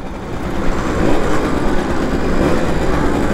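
A Simson moped engine revs steadily and loudly up close during a group ride, a continuous buzzing drone that swells slightly after the first second and holds, with no talk over it.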